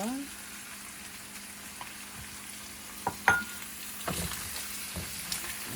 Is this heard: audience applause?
no